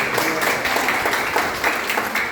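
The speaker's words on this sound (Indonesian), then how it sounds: "Ayo kita tepuk tangan bagi Tuhan" A congregation in a church service claps together in a steady, even burst of applause at moderate volume, with no speech over it.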